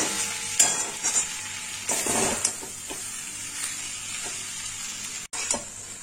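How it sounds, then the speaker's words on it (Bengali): Banana flower dish with cashews and raisins stirred in a pan with ghee: a faint, steady sizzle under several close, uneven scraping strokes of a spoon against the pan, with a brief gap near the end. "এবার এর মধ্যে দেবো আবার একটু কাজু আর কিশমিশ। ভালো করে মিশিয়ে নেব।"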